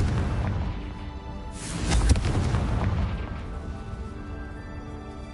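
A Confringo fire spell explosion in the video game Hogwarts Legacy, one loud swelling boom over a constant low game rumble that fades out slowly, without any talking.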